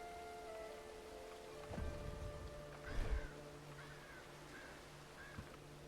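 Rain falls in the video game Bellwright, a soft steady patter beneath faint tonal ambience, with a few low thumps and several short chirping or cawing bird calls near the end.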